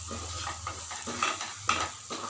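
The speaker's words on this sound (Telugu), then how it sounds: "పౌడర్ కూడా వేసుకొని కలుపుకుందాం." A spoon scrapes and clinks against a metal pot while spices are stirred into rajma curry, in several rhythmic strokes with brief louder knocks, over a soft background hum.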